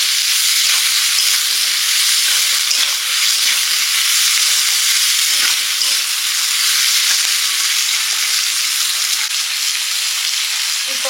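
Potato and onion sizzle steadily in hot oil, a loud, unbroken frying hiss heard up close with no talking.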